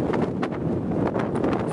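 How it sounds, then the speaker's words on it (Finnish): Strong wind roars and buffets against the microphone in a constant, rumbling rush with no voices, on a ride to Nordkapp. "vaikka täällä tuuli käykin"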